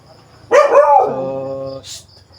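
A single drawn-out dog bark that trails into a whiny howl, close and loud, followed by a brief rustle.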